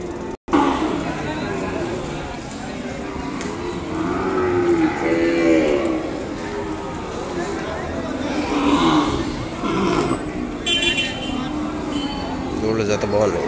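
At a cattle market, Ongole breed calves, mixed with local stock, let out several drawn-out moos, some close and loud, amid crowd chatter and people talking nearby.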